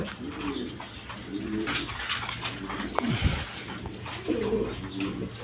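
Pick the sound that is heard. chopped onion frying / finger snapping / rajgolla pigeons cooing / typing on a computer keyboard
rajgolla pigeons cooing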